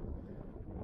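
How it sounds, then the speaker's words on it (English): Strong wind buffeting the microphone on a snowy lake shoreline, a constant low roaring rumble with no voices. "So you can see how windy it is."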